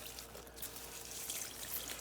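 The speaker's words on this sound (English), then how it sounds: "just give it a dunk, and then we're just gonna water it all in" Water pours and trickles softly onto the soil of a potted plant being drenched against fungus gnats, a quiet steady stream heard close up with no talking.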